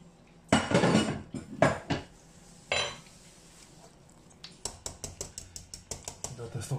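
Shrimp stirred into a pot of polenta, with a few heavy scrapes and knocks early on, then a quick, regular run of spoon-against-pot clinks, with some talk in the background.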